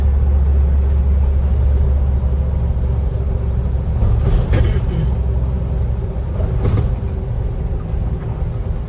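A 1954 Ford F100 pickup truck drives along on a gloomy fall day in the Bay Area, its steady low engine rumble and road noise continuous and close, with a couple of brief rattles partway through.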